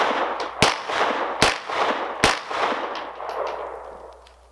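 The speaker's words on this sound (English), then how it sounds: "I'm just going to do kind of 4 rounds rapid fire on it" Three sharp, loud gunshots ring out in quick succession from a Springfield Ronin 1911 9mm pistol during rapid fire, each crack followed by a short fading echo.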